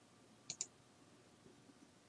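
Two quick mouse clicks while switching the Windows input language back to English, faint and close together, over quiet room hiss.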